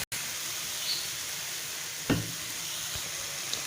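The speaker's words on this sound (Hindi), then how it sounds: "हम इनको स्टर फ्राई करते हैं, मीडियम फ्लेम रखेंगे" Noodles stir-fried in a pan over a medium flame give a steady soft sizzle throughout, with one brief clatter of stirring near the middle and no talking.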